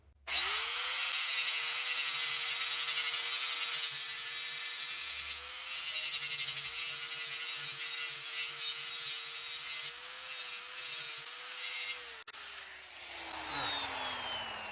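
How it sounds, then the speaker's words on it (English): A power grinder whines loudly and steadily against a custom trailer part, held at a constant pitch for several seconds before it winds down. "So I got to grind off this side now"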